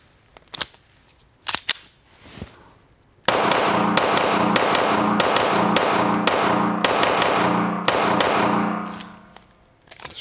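Springfield XD service-model pistol firing 115-grain rounds: a few separate sharp shots, then a fast string of loud reports about one per half second, emptying the magazine outdoors.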